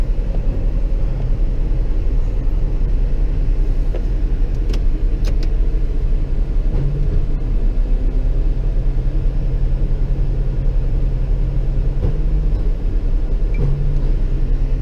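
A light-duty tow truck engine runs steadily at close range during a private property tow, a loud low rumble with a few faint clicks and knocks over it.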